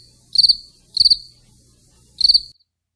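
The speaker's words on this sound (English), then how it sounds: "Not enough background noise on those crickets." Crickets chirp in three short trilled bursts, each a quick pulsing chirp, clear and close against near silence.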